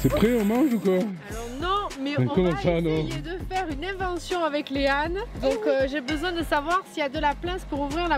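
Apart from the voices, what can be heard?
No everyday noise stands out behind the speech.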